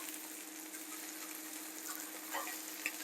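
Vietnamese fried fish sizzles steadily in a hot pan, just flipped to its golden side, a constant close frying hiss with a couple of faint clicks near the end.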